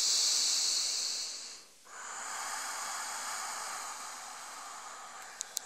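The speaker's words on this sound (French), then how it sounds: "Encore une respiration." Breathing during a yoga exercise for lower back relief: a long, loud, airy hiss, a brief pause, then a second slow steady breath, heard close and alone.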